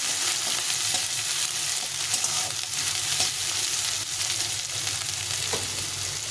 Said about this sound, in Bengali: আলুর সঙ্গে পেঁয়াজটা ভালো করে ভেজে নিতে হবে।